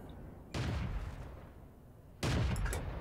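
Two loud, booming tank cannon shots in the World of Tanks video game, the first about half a second in and the second near the end, each blast decaying into a long rumbling tail.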